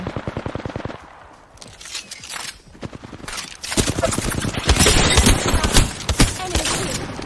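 Rapid automatic gunfire in the Apex Legends video game, dense bursts of close shots in quick rhythm, pausing briefly before a louder sustained stretch of firing.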